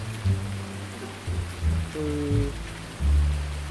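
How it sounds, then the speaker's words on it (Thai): Steady rain pours down at an outdoor digging site with a Yanmar ViO55-5B mini excavator, a dense close hiss of drops, with low engine rumble and intermittent heavier thuds underneath. "ฟังบรรยากาศฝนตกไปด้วยแล้วกันนะ"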